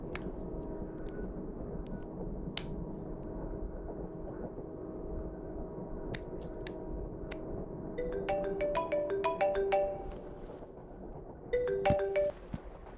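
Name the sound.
phone ringtone from an incoming call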